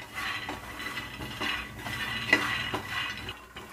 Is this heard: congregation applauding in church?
no